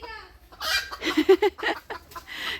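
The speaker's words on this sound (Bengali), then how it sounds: "পুরা গাছ ভর্তি মুরগি" Chickens perched up in a tree on a winter village morning cluck in a quick burst of short, close calls, with a faint squawk before it and no one speaking.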